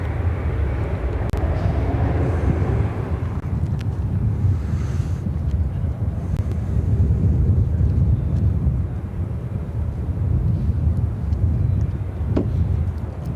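A Boeing 787 Dreamliner arrives at Chicago O'Hare as a broad, steady low roar smeared with heavy wind rumble, holding constant throughout without a clear peak.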